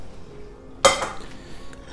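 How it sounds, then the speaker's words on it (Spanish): Drained green beans are tipped into boiling water in a pressure cooker, a single sudden splash and clatter against the pot that fades into a soft bubbling simmer. "Vamos a añadir las judías que las he escurrido"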